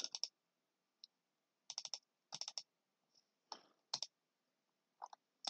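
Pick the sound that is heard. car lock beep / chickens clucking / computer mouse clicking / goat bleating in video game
computer mouse clicking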